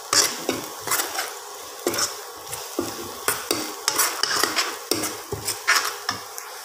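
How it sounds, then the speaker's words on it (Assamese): Spices stirred in a frying pan for a sesame fish curry, with red chilli, onion and cumin powder added; a spoon scrapes and clinks against the pan in repeated close strokes over a soft sizzle, with no talk. "লৰাই দি আছোঁ"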